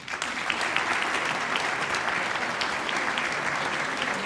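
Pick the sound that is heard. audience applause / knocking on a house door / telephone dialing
audience applause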